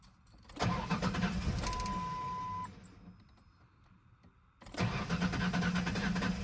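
A 2001 Ford Ranger with a misfire cranks and fires up, its engine catching into a loud run, dropping back to a quieter idle, then surging loud again.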